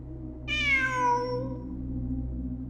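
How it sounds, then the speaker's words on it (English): A cat meows once in the video game Genshin Impact, a single drawn-out, falling cry over a steady low in-game ambient hum. "It really is a cat."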